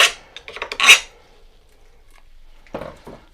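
A round file rasps inside a cut bicycle steerer tube in a short burst of scraping strokes, followed by a pause and one more brief scrape, close up with no talking.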